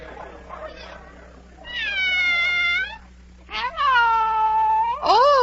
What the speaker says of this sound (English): Oh, it's the Cheshire Cat.